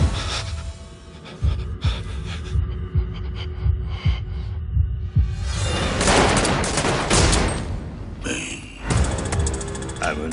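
Revolvers fire in a sequence of sharp, separate shots, roughly one per second, followed by a denser burst of loud cracks and noise, close and prominent.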